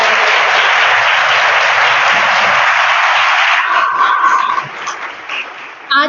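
An audience claps loudly in a dense, sustained burst at a motivational speech event, then the applause thins and fades over the last seconds.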